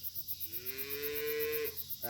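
A cow on a farm with young calves lets out one long, drawn-out moo, faint and somewhat distant, with crickets chirping steadily in the background.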